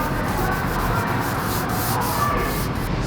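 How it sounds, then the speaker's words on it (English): Steady wet rubbing of 320 grit sandpaper on a small pad across the painted curves of a Mercedes body panel, a continuous close scratchy hiss with no breaks and no talking. "We use 320 grit first."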